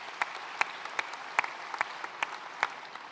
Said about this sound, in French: ça mérite franchement qu'on s'applaudisse